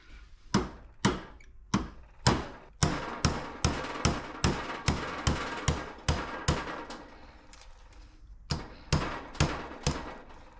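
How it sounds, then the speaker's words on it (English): Hammer strikes driving a roll pin out of a Toyota 4.7 transfer case: about eighteen loud, sharp metallic whacks in a steady rhythm, a short pause, then a few more blows, close with no talk. "now this roll pin right here has to get whacked out"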